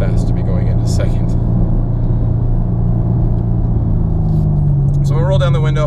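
A 2016-2019 Chevrolet Camaro with a Stainless Works exhaust rumbles deeply from inside the cabin while downshifting, a loud steady low drone that shifts pitch near the end, with someone talking over it.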